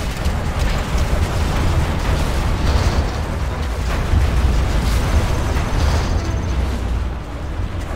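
Scud Storm missile strike in Command & Conquer Zero Hour, a dense, continuous barrage of heavy low explosions and rumbling blasts rolling on for several seconds, loud and close, easing slightly at the end.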